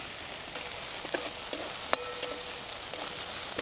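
Green chilies fry in hot oil for a traditional Marathi dried chickpea-leaf vegetable dish, giving a soft, steady sizzle with a few faint clinks of stirring, quiet and without talk.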